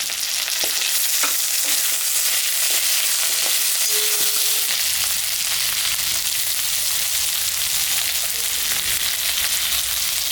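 Loud, dense sizzling of potatoes and onions frying in hot oil, continuous hiss with occasional crackles early on, close up and steady for the whole stretch.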